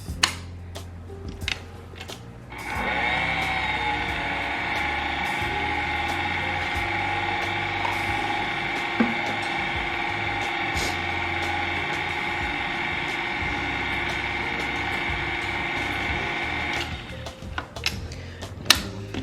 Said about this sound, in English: Stop the mixer, scrape down the side of my bowl